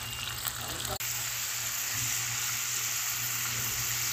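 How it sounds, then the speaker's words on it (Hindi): Chicken pieces frying in hot oil in a pan for a street-style charsi karahi, a loud, steady close sizzle that runs throughout, with a single brief clatter near the start and no talking. "और इस चिकन को भी हम लोग इसमें तेल में ऐड करेंगे। तो इसको हम तकरीबन 5 मिनट तक फ्राई करेंगे।"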